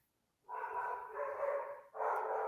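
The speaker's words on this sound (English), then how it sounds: "for God's sakes, dog" A dog barks in the background, two drawn-out yelping barks in quick succession, moderately faint and otherwise alone.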